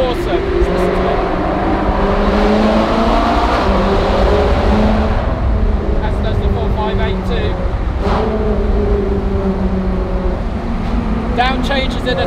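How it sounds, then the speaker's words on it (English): A Porsche GT3 engine roars and revs inside an echoing tunnel, pitch climbing and dropping through downshifts, with someone talking over it. "Down changes in the tunnel, guys."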